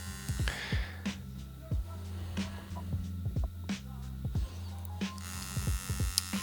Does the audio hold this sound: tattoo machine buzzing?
yes